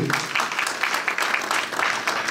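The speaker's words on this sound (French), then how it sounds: "Je crois que ça mérite des applaudissements, non?" Applause from an audience at a charity gala evening in Brussels, dense overlapping claps rising and falling in waves, fairly loud and steady.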